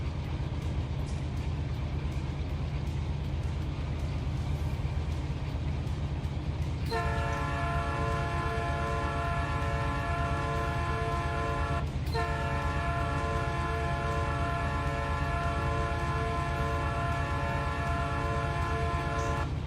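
Train in the Run 8 Train Simulator game rumbles steadily while its loud, sustained multi-tone horn sounds, briefly breaks, then resumes and holds to the end.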